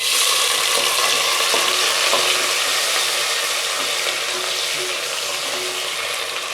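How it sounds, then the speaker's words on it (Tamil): Small shallots sizzle steadily in hot oil for a village-style Tamil mutton kuzhambu, a loud, continuous hiss of frying with faint stirring, heard alone throughout. "இது நல்லா வதங்கணும், பொன்னிறமாக வதங்கணும்."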